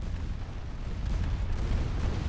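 Two torpedo hits explode in the naval warship game Ultimate Admiral Dreadnoughts as a continuous heavy, rumbling boom with dense low roar and no clear separate strikes.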